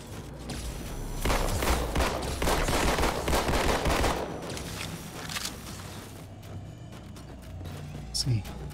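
Pistol gunfire in the Halo 2 video game, a dense run of rapid shots over game noise and in-game chatter, then easing off into quieter ambience with a couple of sharp hits near the end.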